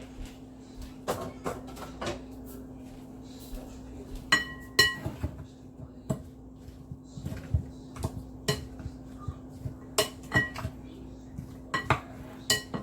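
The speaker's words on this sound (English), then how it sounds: "And then we're going to mix all of this up." Mango chow with lime juice being stirred in a bowl, a spoon striking the sides in a steady series of bright clinks and knocks, close and quiet over a faint constant hum.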